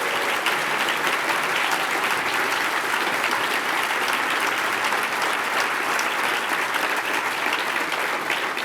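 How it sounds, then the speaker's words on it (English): An audience at an Association for a Better New York breakfast applauds Brooklyn Borough President Marty Markowitz, a loud, dense, sustained burst of clapping filling the room with no pause. "I think we should give a big round of applause"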